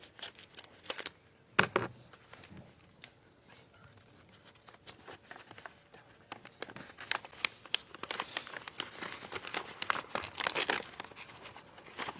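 A paper envelope is opened and handled at a council meeting: crinkling, tearing and rustling paper, close to the microphone, one sharp rip early and then a longer stretch of shuffling and crumpling, with no speech.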